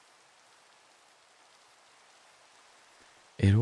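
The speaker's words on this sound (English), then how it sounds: "It is raining." Rain falling in the video game Minecraft, a soft, even hiss of steady rainfall at low volume, ending with a brief loud burst of another sound at the very end.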